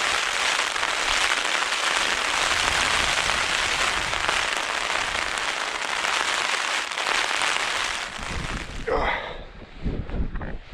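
Heavy rain drums loudly and steadily on a tent at a solo mountain wild camp, a dense close hiss that thins and becomes more broken toward the end.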